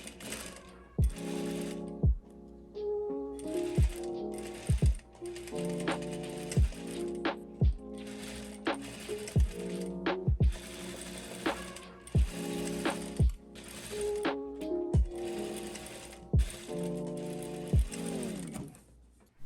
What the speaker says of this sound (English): Sew the shoulder seams of the facing and the placket